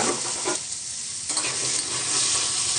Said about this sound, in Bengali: ছোট ছোট টুকরো করে রাখা আলু দিয়ে দিয়েছি এবারে একটু নেড়ে চেড়ে